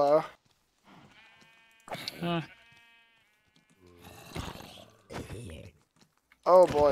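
Several sheep bleats from Minecraft, short wavering cries spaced apart with a sustained tone between them, close and fairly loud.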